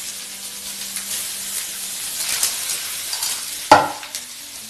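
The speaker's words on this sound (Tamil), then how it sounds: "இப்போ அந்த மசாலாவும் இதில் மிக்ஸ் பண்ணிக்கலாம்." Green tomato and tamarind masala is stirred in a pan for chutney, giving a soft, close sizzle and scraping hiss that ends in one sharp clank of a utensil against the pan. No one speaks.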